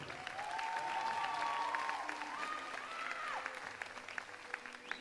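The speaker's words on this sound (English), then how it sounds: "Let's have a big round of applause, ladies and gentlemen" An audience applauds steadily in a dense patter of clapping, with a voice calling out over it before the clapping thins.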